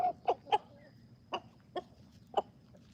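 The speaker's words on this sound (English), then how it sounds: "I can't free range a mean rooster" A mean farm rooster gives several short, separate clucks, loud at first and then spaced out over a few seconds, close by and with no talking.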